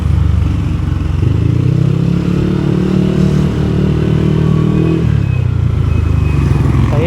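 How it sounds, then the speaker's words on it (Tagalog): A Yamaha Aerox 185cc scooter engine and exhaust on a test ride, a loud, steady, close droning hum with a slight rise and fall in pitch. "O yung tambutso, umingay lang konti."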